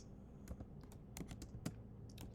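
Keys on a computer keyboard are tapped to type a search term, a quiet run of irregular, close clicks over a low steady background hum.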